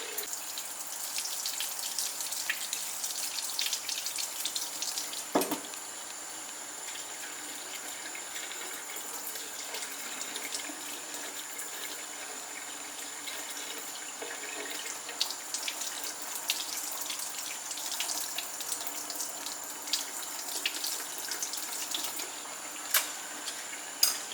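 Tap water runs steadily into a sink while a small fan paint brush is rinsed under it, a constant close hiss and splash with one brief knock early on and faint drips throughout, no talking.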